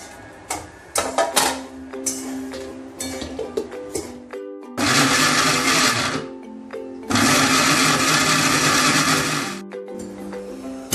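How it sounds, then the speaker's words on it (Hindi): A mixer grinder blending mango whirs loudly in two long bursts with short pulses and clatter between them, close up, with no talking. "इसमें मिक्सी में डाल लेते हैं सब और एक बार का उसे ग्राइंड कर लेते हैं"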